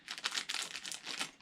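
Plastic packaging holding a stack of postcards crinkles and rustles as it is worked open with scissors, giving a few quiet, close bursts of crackling with no talking.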